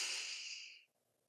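A single soft inhaled breath, a breathy hiss that fades over most of a second before stopping, close and quiet with no talk.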